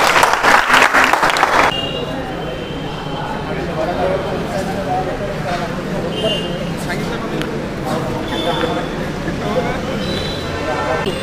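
An audience at a Marathi public quiz event applauds a correct answer with a loud burst of clapping, which quickly drops into steady crowd noise with talking.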